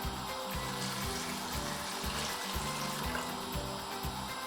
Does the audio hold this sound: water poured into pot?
yes